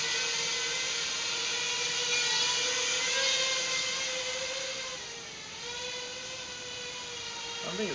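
Emax 2205 2300kv drone motors fitted with 5045 propellers whine steadily in flight, a sustained high-pitched buzz whose pitch holds nearly constant with only slight dips, loud and close throughout with no speech.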